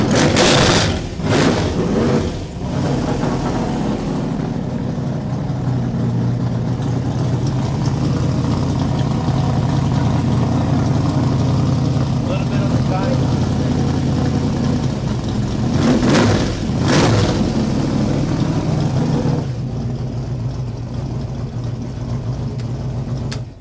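A car engine idles at close range with a loud, steady rumble, broken by a couple of throttle blips that rise and then fall back to idle.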